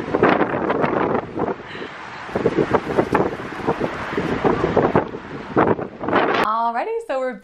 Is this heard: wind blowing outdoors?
yes